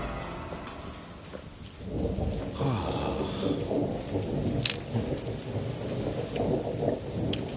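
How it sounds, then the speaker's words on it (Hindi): Steady rain pouring down while the sun shines, a dense hiss that swells after a quieter start, with occasional sharp drips and distant rumbling of thunder. "फिर से धूप में बारिश हो रही है।"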